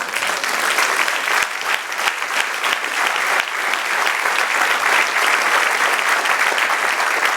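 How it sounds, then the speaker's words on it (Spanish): A church congregation applauds steadily and loudly throughout, dense sustained clapping with no speech over it. "Un aplauso al Señor."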